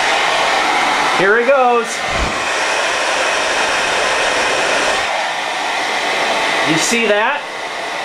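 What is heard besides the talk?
blow dryer blowing hot air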